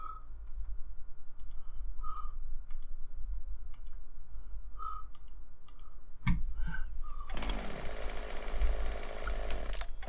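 A chainsaw in Farming Simulator idles with a low steady drone and scattered clicks, then revs hard into a loud buzzing cut through a tree for the last few seconds.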